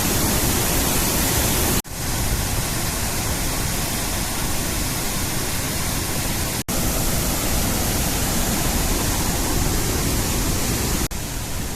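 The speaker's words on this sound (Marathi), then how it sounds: "नुसता उद्रेक चाललाय पाण्याचा" Randha waterfall in heavy flood after torrential rain, a continuous loud, dense roar of rushing water with no voices, broken only by a couple of brief dips.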